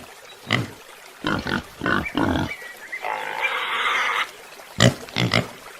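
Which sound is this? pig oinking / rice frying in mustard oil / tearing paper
pig oinking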